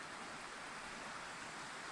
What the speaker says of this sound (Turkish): Buranın deresi çok güzel değil mi?